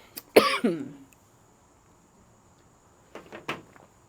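A sharp burst of coughing up close, then quiet, followed by two shorter coughs a few seconds later.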